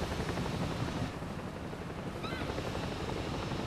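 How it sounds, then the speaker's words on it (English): Helicopter in the video game Ghost Recon Breakpoint, a loud close rotor thrum with a rapid pulsing beat, steady and continuous throughout. "I need to get in so I can drive the chopper away."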